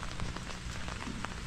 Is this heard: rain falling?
yes